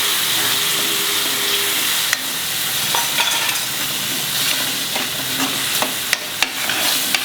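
Puree of one big tomato cooking in a pan over a medium flame, a steady close sizzle and bubbling hiss throughout, with a few faint clinks and taps.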